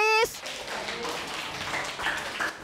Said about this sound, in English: Clap your hand, please.